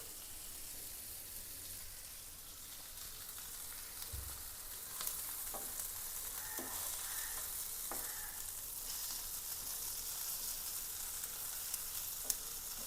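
Continuous crackling sizzle of fish frying in hot oil, with occasional pops and soft clinks, close and steady, no talking.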